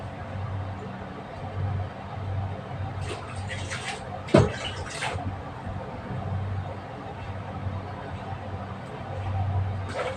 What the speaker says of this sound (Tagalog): Ito na ugasan natin yung kangkong natin.